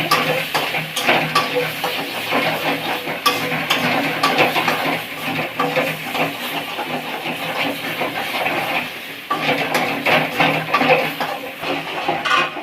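Masala for katla kalia stirred and fried in hot oil, a continuous sizzling hiss broken by scraping and clattering of the spoon against the pan, close and steady.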